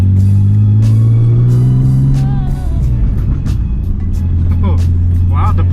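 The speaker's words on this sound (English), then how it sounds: "I'm gonna take it out for a spin, take you guys along, show you how it sounds." A BMW E46 with a naturally aspirated Stage 3+ ghost cam tune drives with a loud, steady engine drone throughout, with pops and burbles and brief tonal sweeps as the revs change.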